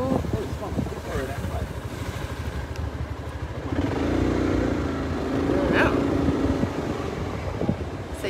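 A scooter rides through city streets behind a Walgreens, its engine droning with wind buffeting the microphone and occasional clatter, while a person talks over the ride.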